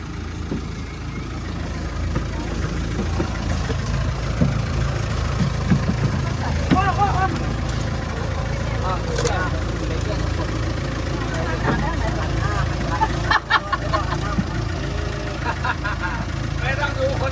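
A tour boat engine drones steadily at moderate level while cruising on the Kaeng Krachan reservoir, with people talking and calling out over it throughout.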